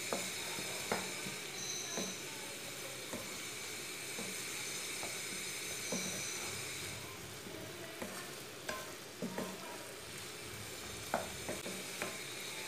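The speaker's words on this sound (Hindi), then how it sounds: "भिंडी डाल के भी अच्छी तरह मिक्स कर लेंगे।" Okra stirred into cream in a pan for village-style malai bhindi gives soft sizzling and frying hiss, with a spoon scraping and clacking against the pan at irregular intervals, close and steady without talking.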